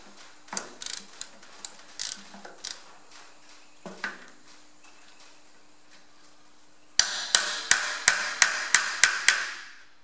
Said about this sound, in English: I'll see if I can get our little socket down through to the back one.